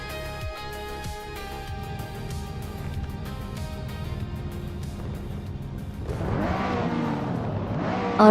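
Several race cars, including a classic 1993 Ford Mustang SVT, rev and accelerate steadily in a retro racing video game at La Sarthe, the engine note swelling louder and rougher toward the end, with no talk.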